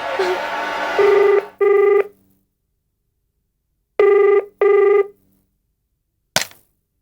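A telephone rings at night in two paired electronic trills, loud and close, with a gap of silence between the rounds and faint background sound beforehand, followed by a sharp click at the end.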